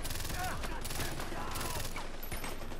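Heavy rapid gunfire in the Far Cry 4 video game, a dense continuous fusillade of overlapping shots and bursts filling the whole stretch, loud and close.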